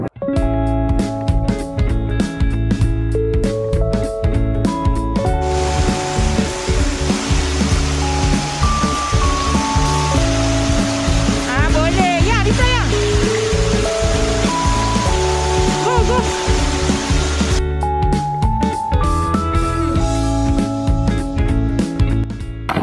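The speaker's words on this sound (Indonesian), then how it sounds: "Makan kat Chong Yi Chong stream, kat sungai ni" A flowing stream at Chong Yi Chong in Korea, a loud steady rush of water through the middle of the stretch, with music playing over it the whole time.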